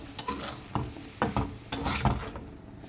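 Boiled food mixture with a little maize flour is mashed and stirred by hand for street food, giving close, irregular scraping and squishing strokes in uneven bursts with no talking.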